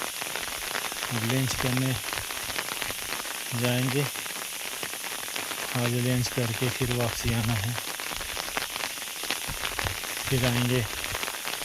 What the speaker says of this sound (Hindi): ज़्यादा बारिश तो नहीं है पर कम है, पर बारिश हो रहा है